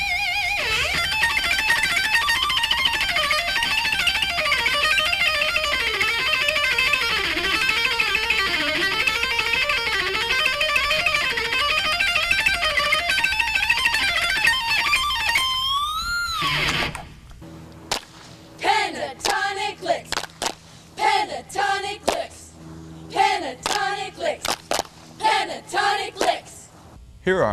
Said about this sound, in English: Let me try out with a little more distortion and the treble pickup to get that mean sound.